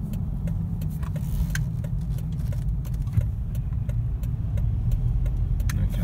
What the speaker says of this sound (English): so again, just accelerating, you can take a guess what gear